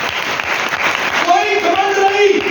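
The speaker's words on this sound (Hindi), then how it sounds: "तो यीशु के लिए तालियां बजाएगा।" A church congregation claps together during a Sunday service, a brief burst of dense applause that quickly gives way to a voice and faint tonal sounds.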